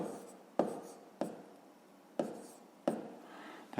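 Pen strokes on paper while working through a fifth-grade arithmetic exercise, with four sharp taps or strokes at irregular intervals and faint scratching between them, close and alone.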